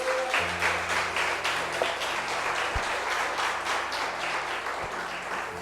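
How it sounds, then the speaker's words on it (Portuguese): A church congregation applauding, dense sustained clapping from many hands filling the room throughout, with a faint low hum underneath. "Você pode aplaudir Jesus e dizer amém."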